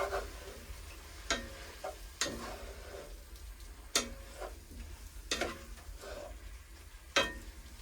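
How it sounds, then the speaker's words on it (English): Food being stirred in a pan on a woodstove, a chili sauce seasoned with chili powder, with a spoon scraping and knocking against the pan at irregular intervals over a low, steady sizzle, close and moderately quiet. "I'll give that a stir in there."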